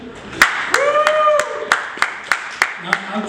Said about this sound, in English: Let's give another round of applause for Kevin Robertson